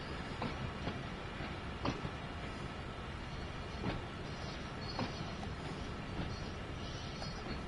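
A DB BR 363 locomotive running in Train Sim World 2, giving a continuous rolling rumble with periodic clickety-clack wheel beats over rail joints, steady and moderately close with no talk.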